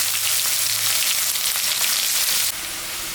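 Onion frying in hot oil, a dense steady sizzle heard up close that dips slightly in loudness near the end.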